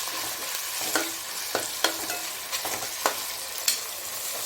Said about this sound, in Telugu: రెండిట్లో వేసుకొని పచ్చి వాసన పోయే వరకు బాగా ఫ్రై చేసుకున్న తర్వాత